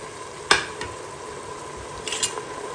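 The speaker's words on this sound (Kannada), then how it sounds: "ಇದನ್ನು ಕೂಡ ಒಂಚೂರು ತುಪ್ಪ ಮತ್ತು ಎಣ್ಣೆ ಹಾಕ್ಕೊಂಡಿರ್ತೀವಲ್ಲ ಒಗ್ಗರಣೆ ಅದರಲ್ಲಿ ಹುರ್ಕೋಬೇಕು" Washed basmati rice is stirred and fried in a ghee and oil tempering. A steady close sizzle runs throughout, broken by a few sharp spatula scrapes and clinks against the pan.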